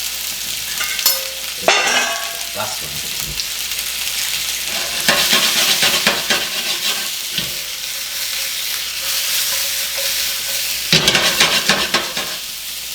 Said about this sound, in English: In goes the vegetables. Gotta love the sizzle sound.